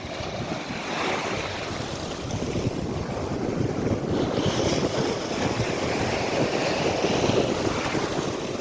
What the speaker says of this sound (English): where the waves are just crashing up against the wall